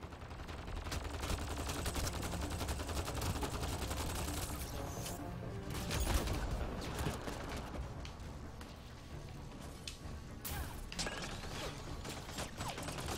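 Sustained gunfire in the Mass Effect Andromeda video game, a continuous fairly quiet clatter of rapid shots and mechanical rattling, with a few sharper cracks standing out.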